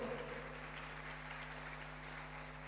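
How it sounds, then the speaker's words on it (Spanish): A congregation applauds during a church service, a quiet, continuous clapping over a steady electrical hum, heard faintly and without speech. "Denle un aplauso al Señor, por favor."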